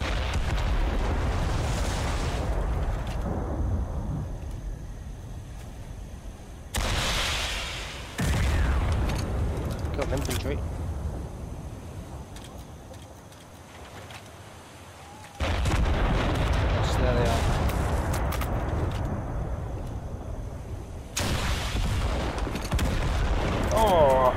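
Rocket explosions destroy a vehicle in the Total Conflict Resistance video game, giving loud booming blasts and rumbling detonations that come in several bursts, with quieter gaps between them.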